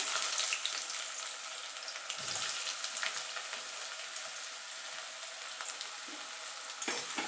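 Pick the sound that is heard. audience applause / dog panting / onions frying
onions frying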